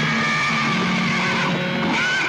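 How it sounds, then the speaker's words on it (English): A horse rears and lets out a loud, drawn-out whinny that fills the whole stretch, heard over steady background hiss in a 1975 documentary setting. "Patterson's horse reared, throwing him."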